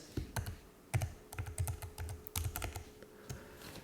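Keys on a computer keyboard clatter in quick, uneven bursts of close, soft clicks, a short burst of typing with brief pauses between.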